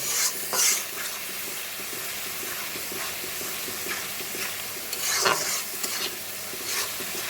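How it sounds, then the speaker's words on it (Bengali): Spice paste sizzles and fries in a pan for a Bengali duck curry, with water added to it and a spoon scraping and stirring through the mixture at intervals, close and steady, with no voices. "এই যে একটু পানি দিলাম মশলাটা একটু কষানি হয়ে এলো"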